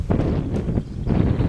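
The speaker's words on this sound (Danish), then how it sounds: "Det blæser godt nu jo." Strong wind buffets a microphone outdoors, a loud low rumble that swells and dips in gusts throughout.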